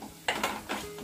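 Masala (Malvani spice mix) being stirred as it roasts in a little oil in a pan, with a few close metallic scrapes and clinks of a spoon against the pan over a faint sizzle.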